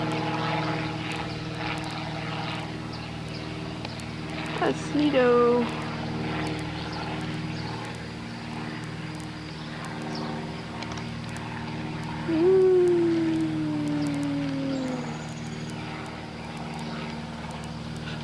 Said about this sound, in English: there's an airplane in the sky.